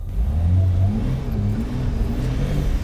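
A rear-wheel-drive car accelerates hard with its wheels spinning on snow and ice, a loud, steady engine drone holding close throughout with no voices.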